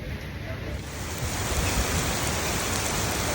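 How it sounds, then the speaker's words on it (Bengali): Heavy rain pours steadily outdoors in Singapore, a dense, continuous wash of noise at close range that swells slightly and holds without a break. "অনেক জোরে বৃষ্টি হচ্ছে"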